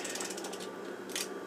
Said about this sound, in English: Hit the shutter button again to drop the mirror